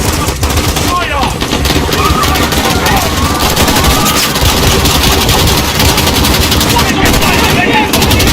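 Dense, loud automatic gunfire rattles almost without pause during a police shootout at Piccadilly Circus in Modern Warfare, over a heavy engine rumble, with voices mixed into the din.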